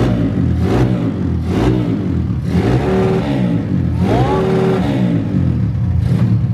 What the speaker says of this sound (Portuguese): Então bora acelerar essa moto aí.